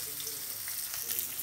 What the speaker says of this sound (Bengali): আর একটু মাছটা হালকা করে এই যে ভাজা নিলাম।